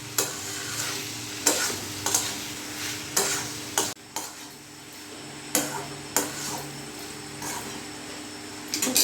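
Mutton liver curry cooks in a pan under a constant low sizzle while a utensil scrapes and stirs in sharp, regular strokes about every half second to second, close and clear, with no voices.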